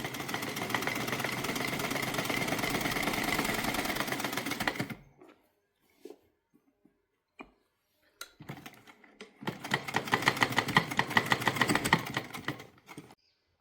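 A sewing machine stitches an Anarkali frock in two sustained runs of rapid, rhythmic needle clatter, separated by a quiet pause with a few brief handling clicks.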